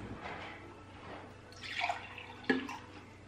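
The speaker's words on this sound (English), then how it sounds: "So once you've shaken it up, it's ready to pour. So we're gonna pour in the cups." Ice water mixed with cricket powder is poured from a shaken container into cups, soft trickling with a couple of brief splashy clinks, no talking.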